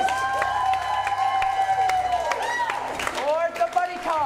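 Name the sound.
audience clapping and cheering at an improv comedy show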